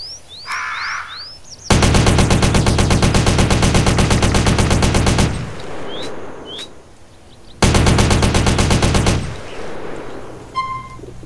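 AK-47 assault rifle in GTA San Andreas firing two long, rapid full-auto bursts, loud and close, with brief quieter pauses, a few faint whistles and game sounds between them.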